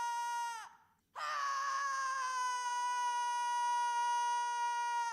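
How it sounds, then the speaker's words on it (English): Sustained high-pitched screaming from a played video, a loud continuous tonal wail that breaks off briefly, then resumes and holds steady to the end, with no speech over it. "It's just people screaming."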